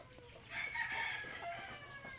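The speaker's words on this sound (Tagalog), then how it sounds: "Yung mga manok." Chickens cackle and cluck close by, with a rooster-like crowing call rising in the middle over steady outdoor background noise.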